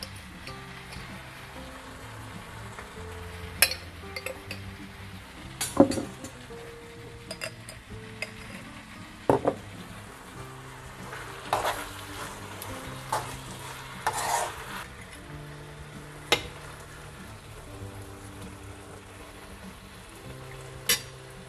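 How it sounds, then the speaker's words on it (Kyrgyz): Lagman ingredients seasoned with black and red pepper being stirred in a frying pan, a soft steady sizzle with scattered scrapes and clinks of a utensil against the pan, close and moderately quiet, with no talk. "кара мурч жана кызыл мурч салып аралаштырып алабыз"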